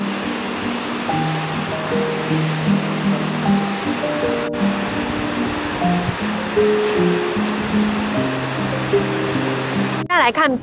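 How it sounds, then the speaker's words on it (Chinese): Shirahige Waterfall near Sapporo, its mineral-tinted blue water feeding the pond downstream, rushes as a steady, even hiss of falling water that runs the whole time beneath louder background music. "来看白须瀑布"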